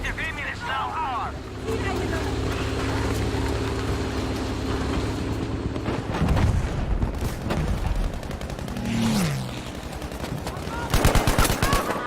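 Gunfire from a newly added free weapon in the video game Battlefield V, bursts of shots mixed with battlefield noise and vehicle engine rumble, with a player talking over much of it.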